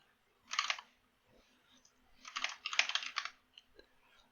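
Keys clatter on a computer keyboard as a shell command is typed, two short bursts of rapid clicking separated by a pause, close and fairly quiet.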